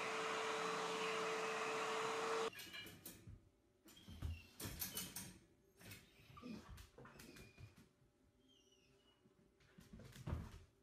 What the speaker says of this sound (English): This is what happens when you vacuum the dog.